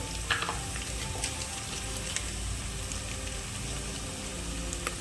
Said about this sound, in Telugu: ఆల్రెడీ గిన్నె పెట్టేసి నూనె వేసి ఉల్లిగడ్డ, పచ్చిమిర్చి, తాలింపు గింజలు, వెల్లిపాయ, జీలకర్ర యాడ్ చేశానండి.